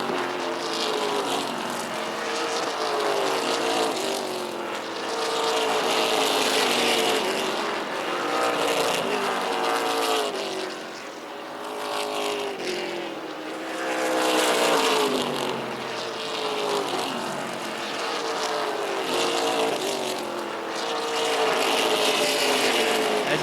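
Race cars lap Wiscasset Speedway during the Boss Hogg 150, engines droning loud and constant, swelling and fading in repeated waves as the field passes. Traces of a voice sit low under the roar.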